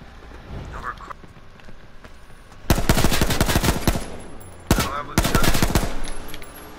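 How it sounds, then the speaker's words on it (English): Automatic gunfire in the battle royale game H1Z1: two long, loud bursts of rapid shots, separated by a brief gap, following a quieter stretch. "I was shooting at people."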